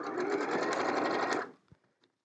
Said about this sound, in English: I'll show you what it looks like now after I sew this one to it.